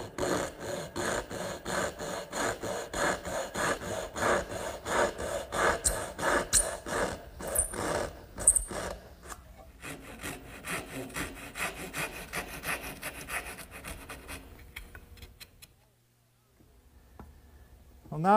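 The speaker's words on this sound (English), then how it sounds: "I think there's no easier way than to use the regular dovetailing saw" A dovetail saw cuts wooden rails with rapid, rhythmic back-and-forth rasping strokes, close and steady, slowing near the end before a short pause and a final scrape.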